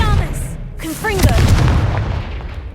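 Confringo fire spell blasting in Hogwarts Legacy, a loud booming burst with crackling debris that follows a voice casting spells and continues under game sound.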